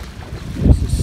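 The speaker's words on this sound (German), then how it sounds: "es ist sehr windig." Strong wind gusts across a lake during a paddling outing, a loud, low rushing roar that swells toward the end and buffets the microphone, with no talk over it.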